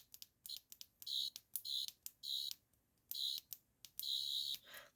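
An 11th Doctor sonic screwdriver prop replica from Celestial Toystore emitting its sound effect, a series of short, bright, warbling electronic bursts pressed on and off in quick succession, close and clear with no talking.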